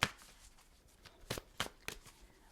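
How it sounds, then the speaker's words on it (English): Tarot cards being shuffled in a few quick riffling bursts, crisp and close, with short pauses between each shuffle. "Let's shuffle the cards, Libra."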